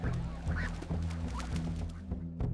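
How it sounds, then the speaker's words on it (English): Ducks and other live fowl call out in a busy open-air market of 1519 Tenochtitlan, with turkeys caged in wicker nearby; short quacks and honks repeat over a steady low hum of crowd and ambience. "Live turkeys gobble in wicker cages."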